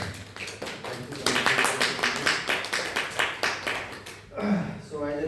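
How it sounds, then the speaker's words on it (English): An audience at a Lucknow Toastmasters meeting claps to welcome a speaker on stage, a steady run of close, rhythmic claps lasting a few seconds before a voice begins speaking. "just please come on the stage, welcome him with big round of applause"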